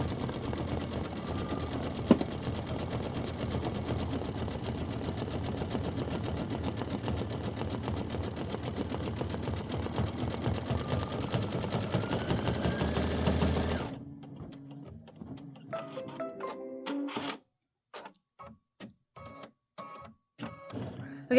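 An embroidery sewing machine stitches a shadow-thread fill for a quilt block, a steady rapid mechanical chatter that runs continuously and then stops, followed by scattered clicks and quiet handling noises.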